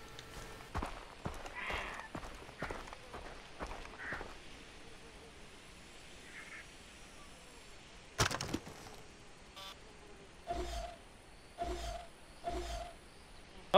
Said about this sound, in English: Tiger or leopard?